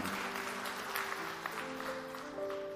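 A church congregation claps during a sermon in a faint, distant wash of applause, with sustained musical tones running underneath.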